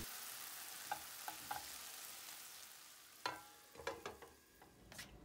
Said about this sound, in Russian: Теперь жарим на сковороде, добавляю соль, специи, соус терияки